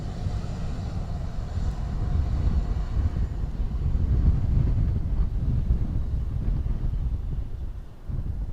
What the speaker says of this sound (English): Ryanair from Birmingham, got the touchdown.